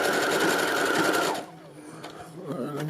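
A sewing machine stitches a blind hem with a loud, fast, continuous mechanical whir that stops abruptly after about a second and a half, leaving quieter handling noises and a voice.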